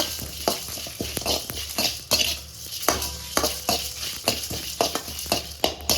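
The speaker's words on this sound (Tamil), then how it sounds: "மல்லி சீரகமெல்லாம் வறுத்து எடுத்தாச்சு" Coriander seeds and cumin dry-roast, sizzling and rattling in a pan while being stirred steadily, with soft scraping and clinking throughout.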